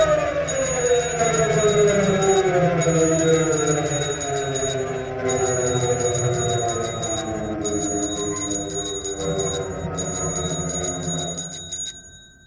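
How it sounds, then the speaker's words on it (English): A shrill bicycle bell rings in repeated bursts, loud and close, over a wavering siren-like drone that fades near the end. "rang my bicycle bell repeatedly"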